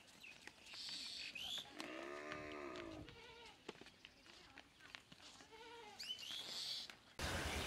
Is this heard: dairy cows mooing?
yes